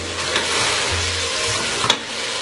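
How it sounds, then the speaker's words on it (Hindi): Steady close-up sizzling of spices frying in a hot pan, a continuous hiss with a brief scrape or stir near the end. "अब इन्हें अच्छे तरीके से हम भूनते हैं।"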